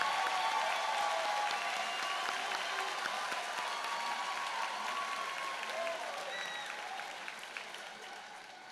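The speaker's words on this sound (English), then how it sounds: "One more round of applause for our graduates." Applause for graduates fills a hall at a spring college convocation, a steady wash of many hands clapping that slowly fades toward the end, with a faint voice briefly heard over it.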